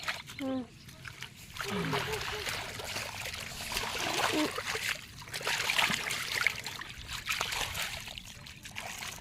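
Rainwater runs off into a farm field, giving a continuous trickling, splashing rush that swells and stays steady at close range while voices talk over it.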